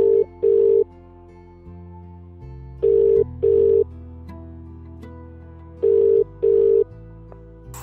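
Outgoing phone call ringback, a steady tone in paired beeps repeating three times with pauses, over a low background music bed.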